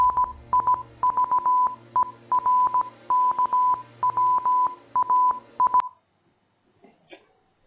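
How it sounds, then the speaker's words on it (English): Rapid series of short electronic tones in uneven bursts, like Morse code, steady and fairly loud, then stopping abruptly with a few faint clicks after. "Audio from the final video posted sounds like Morse code"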